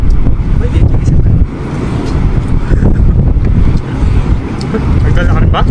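Strong sea wind buffets the microphone on a small fishing boat, a heavy low roar with gusty surges over a rumbling hull or engine, while people talk over it.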